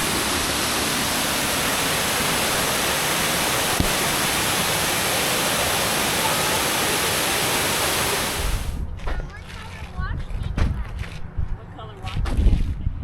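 A constant roar of falling water from a waterfall in Michigan's Upper Peninsula dominates, then cuts off abruptly, leaving quieter outdoor ambience with faint voices and movement.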